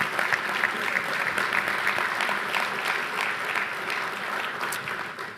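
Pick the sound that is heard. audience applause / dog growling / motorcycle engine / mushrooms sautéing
audience applause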